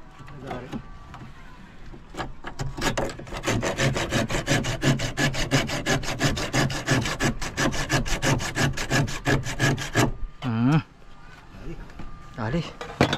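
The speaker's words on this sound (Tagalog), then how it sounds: "Ang talim niya na eh. Lagari." Hand saw cutting through wood while building a boat cabin, a long run of quick, regular back-and-forth rasping strokes, close and loud, with a short pause and a voice near the end.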